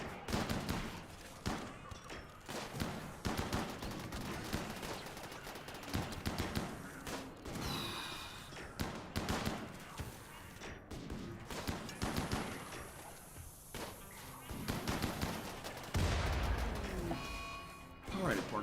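Colonists fire rifles in a RimWorld battle, shots popping in ragged volleys and bursts that overlap with thuds and crashes, with a voice talking over the fighting.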